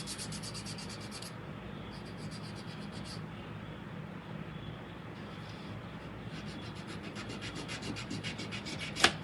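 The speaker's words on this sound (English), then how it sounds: "filing them, it does make them smoother" Fingernails being filed with a nail file: close, steady rasping strokes in several bursts with short pauses between them, and no talking.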